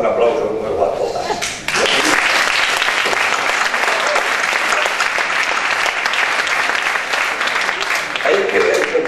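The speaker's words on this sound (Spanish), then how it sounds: "Ahora que nos damos un aplauso nuevo a todas." Sustained audience applause at a crowded cultural association queens' coronation in Mislata, dense steady clapping filling nearly the whole stretch with a brief dip early on.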